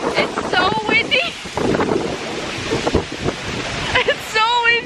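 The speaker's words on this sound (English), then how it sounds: "It's so windy." Strong wind buffets the microphone at the Eiffel Tower in Paris, a loud continuous rushing gust noise with people talking and exclaiming over it.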